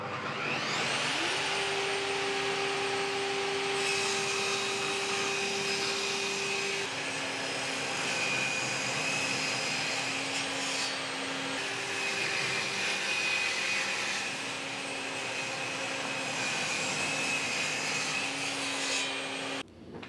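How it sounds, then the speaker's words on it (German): A saw runs steadily for about twenty seconds, ripping 15 mm multiplex plywood into strips for gluing up a tabletop, its loud, even whine shifting pitch slightly as it cuts with no voices. "einmal eingestellt, komplett durchsägen, alle Streifen und dann können wir nämlich das Ganze verleimen"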